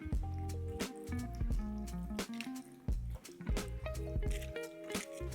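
Cuban picadillo with olives, capers and bay leaves is stirred in a pot, thick wet squishes and scrapes coming in uneven strokes, close and fairly quiet with no voices.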